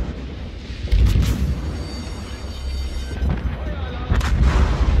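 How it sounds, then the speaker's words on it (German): Enemy warships firing on a player's ship in World of Warships, heavy booming gun blasts landing in several clusters over a low rumble. "Ja, ich wurde halt von drei Schiffen beschossen."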